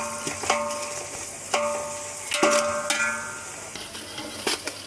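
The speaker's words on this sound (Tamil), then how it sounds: "இப்போ நல்லா வெங்காயம் வந்து நல்லா வதக்கி விடுறேன்." Onions for chicken biryani sauté in a pan with a soft, steady sizzle, broken by sharp clinks and scrapes of a spoon as they are stirred.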